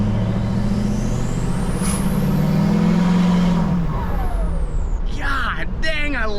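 A dually pickup truck driving with its engine droning loudly and steadily at close range, pitch falling as it eases off, with someone talking over it near the end.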